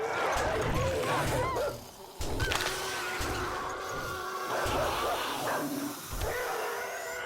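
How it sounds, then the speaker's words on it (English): Several dogs barking and yipping in the video game 7 Days to Die, a desert setting, repeated close barks in bursts over game ambience, with a voice talking at times. "Hello, doggies."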